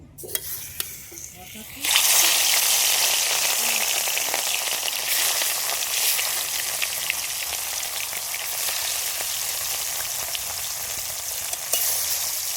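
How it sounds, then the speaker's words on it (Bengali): Rohu fish pieces coated in salt and turmeric frying in mustard oil in a wok, a loud steady sizzle that bursts in after a quieter start and crackles continuously to the end. "কড়াইয়ের মধ্যে সরষের তেল দিয়ে দিয়েছি, এবার মাছগুলো সব ভেজে নেব।"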